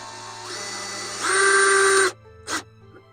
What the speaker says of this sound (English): new screwdriver, which is cool, a lot smaller than the other one, and fits in there